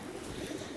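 Pigeons in a loft during Winter Storm Mateo give a low, soft cooing, a brief murmur that sits faintly under steady background noise.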